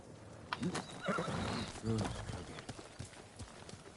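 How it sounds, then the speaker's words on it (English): A horse in the video game Ghost of Tsushima whinnies loudly and shakily while hooves clop beneath it, with a second neigh following shortly after. "I have a horse."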